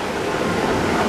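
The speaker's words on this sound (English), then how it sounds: "That's the water ride." Water ride at Walt Disney World splashing and rushing as a loud, steady wash of broadband noise, close by and constant, with no talk.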